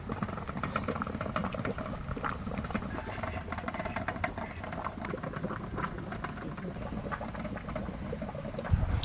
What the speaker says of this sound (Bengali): এবার জাল হতে থাকুক, আস্তে আস্তে ফুটবে, জলটা শুকিয়ে যাবে, মাছটা হয়ে যাবে।